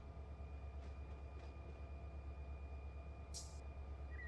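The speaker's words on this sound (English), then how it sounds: "Oh, that's my train right there." A freight train rolls past in the Run8 train simulator at Selkirk Yard, a steady low rumble with a faint high hiss that holds evenly throughout, with no voices.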